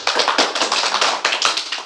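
A class of students claps together in a classroom, a dense, fairly loud patter of hands in short uneven surges that runs the whole time with no talking.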